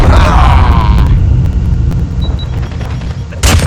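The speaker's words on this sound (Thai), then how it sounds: "เฮ้ยเสียงปืน" Gunfire in a shooting video game, with a loud booming blast and a rumbling tail, then a sharp burst near the end. A voice talks briefly at the start.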